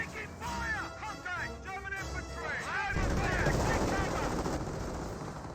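Sniper and Bren machine gun fire in a Company of Heroes battle, with rapid gunfire and rumbling battle noise under a voice talking at first, then dense sustained firing.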